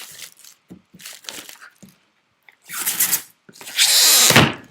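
Plastic wrap is torn and crinkled off a Diamond Art Club diamond art kit box, coming in several short rustling bursts that build to a loud, sustained crackling tear near the end.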